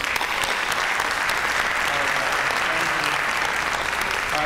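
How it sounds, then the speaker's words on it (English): A large audience applauds steadily at a high school senior awards night, a dense wash of clapping that stays even and sustained throughout. "let's give a hearty round of applause for their hard work and dedication."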